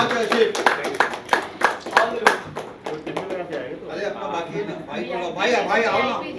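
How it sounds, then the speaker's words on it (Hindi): Audience at a comedy stage event claps in sharp, uneven bursts for the first few seconds, then the clapping gives way to someone speaking. "जोरदार तालियां आशीष के लिए, क्या बात है।"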